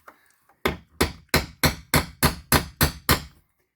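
A hammer striking a nail punch to set a finishing nail into wood during a pocket door repair: eight sharp, evenly spaced metallic taps, close and loud, with a couple of light taps before them and no talk.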